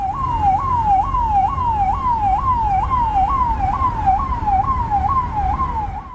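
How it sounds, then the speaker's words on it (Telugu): A car drives past on a road with its siren wailing in steady, regular rising-and-falling cycles, loud and clear over a low rumble of traffic, with no voices. "కార్ ఒకటి సైరన్ వేసుకొని పోతున్నది"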